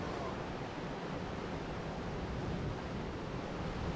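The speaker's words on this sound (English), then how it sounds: "Cool little wave breaking spot here" Ocean waves break and wash continuously on the rocky Maine coast at Ocean Beach in Acadia National Park. The surf is a steady broadband rush at moderate, even loudness, with a little wind noise mixed in.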